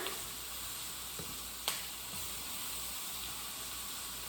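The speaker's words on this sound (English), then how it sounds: "I'm going to saute these vegetables." Onion and vegetables sauteing in a pan for orange chicken give a faint, steady sizzle with a couple of small pops.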